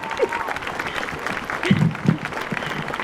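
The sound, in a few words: audience clapping at a rally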